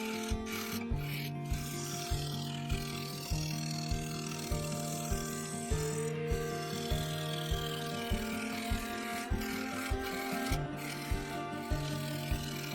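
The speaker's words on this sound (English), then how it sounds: "For this I used the carbide cutter. I began removing material, slowly working my way into the base." A carbide cutter scraping wood from a spinning offcut on a woodturning lathe, a steady rasping rub with a regular rhythmic pulse from the rotation, close and continuous over the motor's hum.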